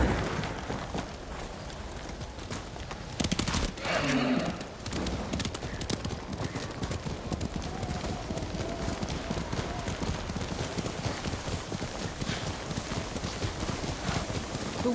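Horses walk through falling snow in the game Ghost of Tsushima, their hooves clip-clopping in a steady, continuous rhythm at close range, with a brief louder stir and a faint whinny partway through.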